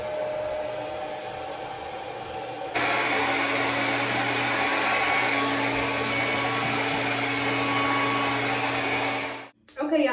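A hair dryer blows steadily on braided microlocs, a loud continuous whir that jumps up a setting partway through and then holds until it cuts off near the end.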